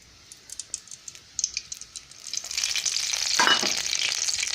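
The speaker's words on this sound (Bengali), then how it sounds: "তেলটা গরম হচ্ছে।" Cooking oil heating in a kadai over a gas flame, before ginger, onion and garlic paste go in for prawn malai curry: scattered light ticks give way to a steady, building sizzle that fills the second half.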